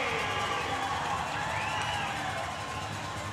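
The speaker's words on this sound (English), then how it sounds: "Tucker Scantleberry getting the crowd going here at McMorran Place" A hockey crowd at McMorran Place roars and cheers during a Prowlers vs Rockers game, a dense, sustained wash of voices and shouts filling the arena throughout.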